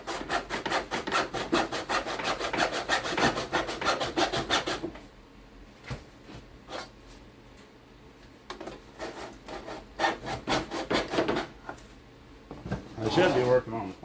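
A solid wooden dowel rod on a model plane is sawed in a rapid rasping rhythm, then cracks and snaps in scattered bursts, with a voice speaking over parts of it.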